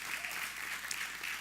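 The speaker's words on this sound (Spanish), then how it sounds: "denle un aplauso más fuerte a Dios" A church congregation claps for God during a sermon service, a brief, steady burst of dense applause heard from a moderate distance, without speech.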